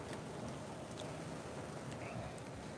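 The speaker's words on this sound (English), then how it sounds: "I'm getting heavy rain." Heavy rain pours during a tornado-producing storm ahead of Hurricane Milton, a steady dense hiss that stays faint and constant throughout.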